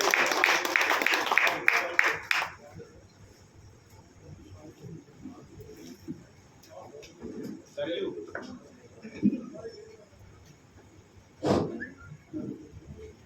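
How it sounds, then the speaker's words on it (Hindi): Brief burst of audience applause at an evening stage gathering, greeting senior lyricist Vinod Anjan, lasting about two seconds before fading into scattered murmurs and faint voices. "एक बार जोरदार तालियों से आप स्वागत करें विनोद भाई साहब का।"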